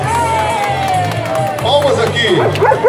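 Audience applause at a dog parade, bursts of clapping and cheering from a crowd with dogs barking nearby, under a voice calling out over a loudspeaker.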